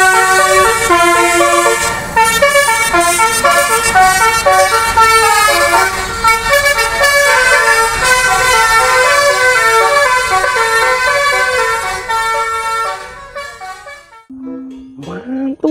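The Pandawa 87 "Herbie" bus blares a loud, close musical horn that plays a rapid melodic tune of stacked tones for about thirteen seconds before cutting off.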